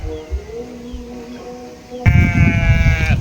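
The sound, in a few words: goats bleating in a herd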